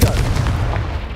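A Confringo blasting spell bursts in Hogwarts Legacy, a sharp explosive boom with a short rumbling tail, heard alone.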